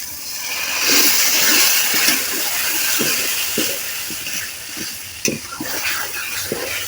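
Loud, continuous sizzling as water hits a hot pan of spiced masala with dried chili powder for egg and chana dal curry, with scattered stirring scrapes and clinks throughout.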